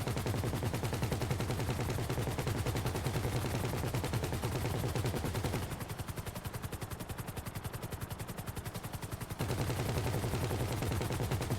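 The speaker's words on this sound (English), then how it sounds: "Who the hell's shooting?" Rapid gunfire crackles nonstop in a video game, dense bursts of shots filling the whole span, briefly thinning in the middle before resuming at full intensity.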